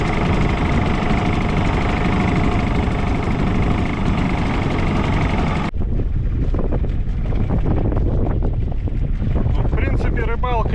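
Steady, loud wind buffeting a microphone outdoors on an inflatable fishing boat, constant roaring rumble throughout, with faint clicks and rustles in the second half.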